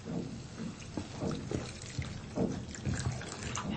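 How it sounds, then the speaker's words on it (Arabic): Water is poured into vegetables in a cooking pot, making soft splashing and gurgling liquid sounds at close range in uneven bursts. "زيد ديك شوية ماء"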